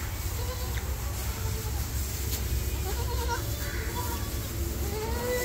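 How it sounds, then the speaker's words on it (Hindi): Goats, a mix of bucks and does with young kids, bleat at a goat farm in Bhiwandi. Scattered bleats ride over a steady low rumble, and voices murmur in the background. "इसमें बकरे बकरी मिक्स है।"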